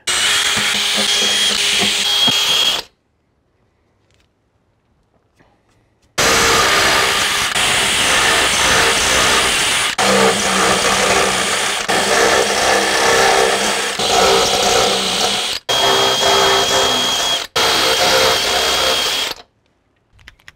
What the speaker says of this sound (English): So I'm going to drill these out to 3/8 of an inch.